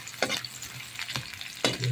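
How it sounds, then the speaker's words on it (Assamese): Onions sizzle softly in hot oil in a pan, with a few scraping stirs of a spoon breaking through the quiet frying hiss. "এতিয়া দি দিছোঁ আমি পিঁয়াজটো অকণমান ৰঙচুৱা হ'বলৈ দিব লাগিব"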